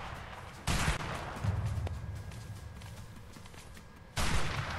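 Gunfire in the A Way Out video game, with sharp loud bursts at the start and near the end and scattered shots in between, set against a steady background din.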